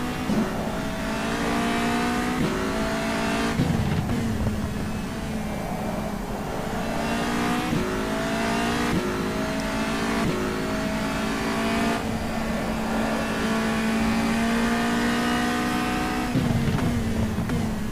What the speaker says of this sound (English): Down to second gear again. Oh, even to first, sorry.